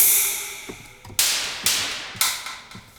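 Four sharp, metallic Moog synthesizer can-hit percussion sounds ring out one after another at an even pace, each decaying quickly, over a faint sustained tonal background.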